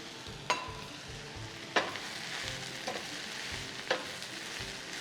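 Spinach and garlic seasoned with salt and pepper, stirred in a sizzling pan, a soft continuous frying hiss broken by four sharp scrapes or knocks of the utensil at irregular intervals.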